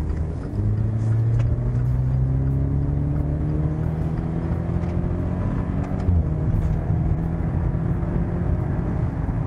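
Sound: Maserati Ghibli mild hybrid car accelerating in sport mode

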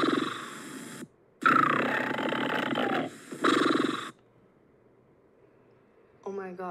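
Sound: cartoon character snoring

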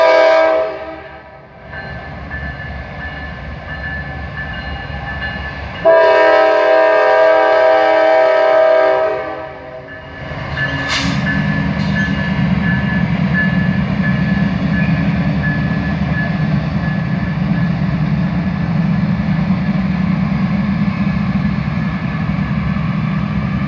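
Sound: grain train departing, AC-44 locomotive

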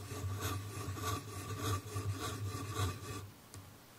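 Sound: Lamy fountain pen writing on paper near microphone

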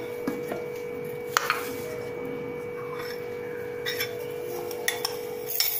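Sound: mixing roasted flaxseed, peanut and sesame mixture

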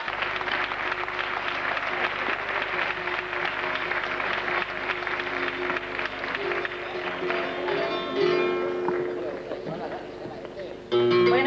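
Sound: audience applause for a flamenco singer

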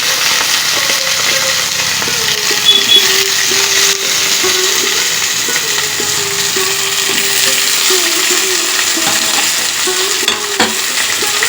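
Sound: thick-cut potatoes frying in oil

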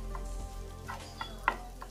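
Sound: raw banana peel frying in oil

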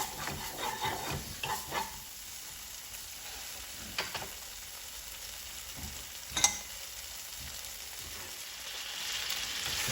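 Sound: chicken fry sizzling and being stirred with chilli sauce

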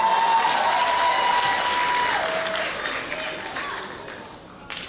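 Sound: applause

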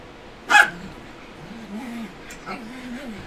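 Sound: dogs playing in the background

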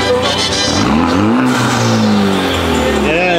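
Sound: car engine revving

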